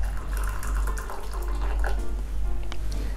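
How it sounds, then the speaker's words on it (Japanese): Freshly boiled water streams steadily into a teapot to warm it, a continuous close pouring splash over a low hum, with no voices. "まず沸かしたお湯を使ってちょっとこう温め"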